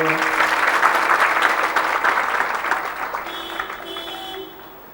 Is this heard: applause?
yes